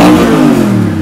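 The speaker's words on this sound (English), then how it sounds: "if I am to record us revving this rather loud engine here" A rather loud engine roars in a brief, very loud rev up close, its pitch sliding slightly downward as it eases off.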